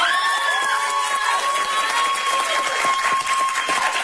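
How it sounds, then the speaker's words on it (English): Dense clapping and cheering from a studio audience at a television talk show fill the room, loud and continuous, with high whoops and shouts over the applause throughout. "And applause for Shay."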